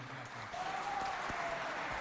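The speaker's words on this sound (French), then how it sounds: "Applaudissez bien fort pour vous." A school audience at a contest between Lycée Moderne Le Patriote and Lycée Les Excellents claps together in a steady wash of applause, with faint voices and a brief tone mixed in.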